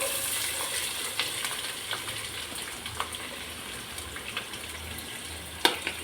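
Green chili and onion sauté in oil and ghee in a pan, a soft steady sizzle close by with occasional light clinks and scrapes of stirring.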